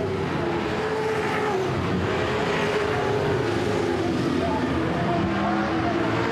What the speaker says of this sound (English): Oh, car 34, Andrew Jones around at turn five.